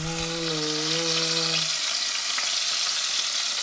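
Fish frying in a pan makes a dense, steady hiss that runs loud and continuous throughout, with a brief voiced tone over it at the start.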